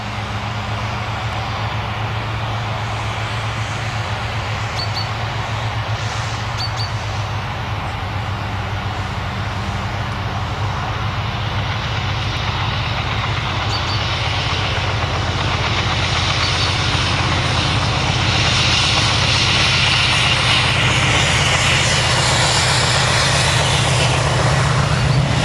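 Class 56 diesel locomotive 56302 hauling a Carlisle to Chirk log train on the West Coast Main Line at Plumpton, a loud, steady diesel engine drone that swells slightly as it passes close by, with no talking.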